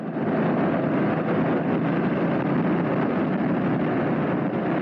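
Honda CB 400 SS motorcycle, 400 cc, engine running steadily at low revs while riding, a constant broad drone mixed with heavy wind rush, no talk.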